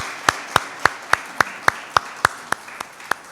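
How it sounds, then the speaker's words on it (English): A steady, evenly spaced series of about a dozen sharp hand claps, distinct and fairly close, applauding a panel at the close of a discussion on athletes. "a round of applause for our esteemed panel"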